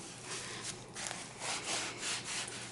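Size 1 diapers being rolled up by hand for a diaper cake give a quiet, close, continuous papery rustling and rubbing with soft swells, no voices.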